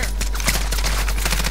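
A Warzone match with an AN94 rifle produces dense, rapid gunfire that crackles continuously, loud and close, over a heavy low rumble. The shots blend into a busy, sustained barrage.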